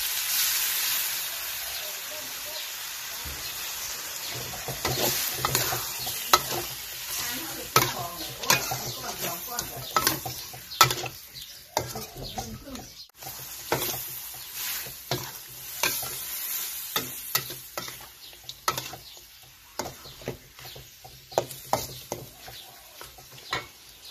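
Spicy field rat stir-fried in a pan with a splash of water added: steady scraping and stirring over a continuous sizzle, with irregular clinks and scrapes of the utensil close up and no talking.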